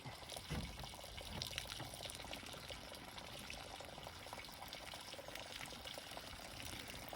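Antifreeze draining from a camper's low-point water drains gives a faint, steady trickle and splash of liquid that runs continuously with no talk.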